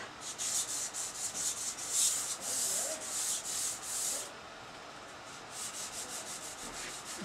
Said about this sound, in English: just give them the lightest of sanding.